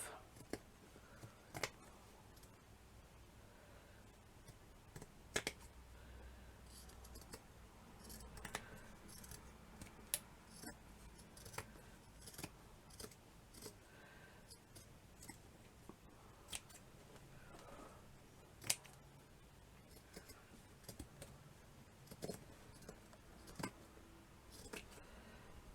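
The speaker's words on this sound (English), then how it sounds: "And then we just trim all of that off." Scissors snip away excess fabric from a handmade shabby chic cushion, producing faint, close, irregular cutting clicks and snips spread through a quiet room with soft handling rustle.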